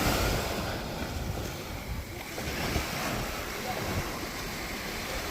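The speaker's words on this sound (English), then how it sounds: "Just listening to them waves." Ocean surf washes onto a beach in a steady, broad roar, with wind buffeting the microphone and no clear talk over it.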